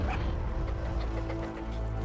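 A puppy in Metal Gear Solid gives soft yips and whimpering barks over a dense, droning game soundtrack that nearly buries it.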